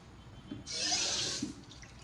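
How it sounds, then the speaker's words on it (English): Water pours into a stew pot of curry okra with chayote, potatoes and tomatoes, a steady hiss of liquid lasting about a second, close and moderately loud, bracketed by small clinks. "Maybe a little bit more water, just a bit."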